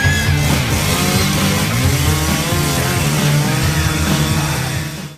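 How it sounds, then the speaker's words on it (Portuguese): A chainsaw in the video game Downfall roars loudly and continuously, its engine note wavering in pitch as it revs before trailing off at the end, with no talking over it. "Depois que o Joey chega que nem um maluco no prédio e mata ela com a motosserra"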